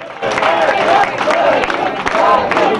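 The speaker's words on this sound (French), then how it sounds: "Des acclamations de remerciements." A crowd of PDS party activists cheers and shouts in acclaim, a dense, steady roar of many voices lasting a few seconds without a break.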